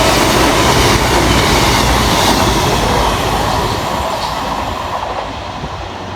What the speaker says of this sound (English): Next line through the station for cross country 221110, working 1 Victor 52 from Edinburgh Waverley through to Cheltenham Spa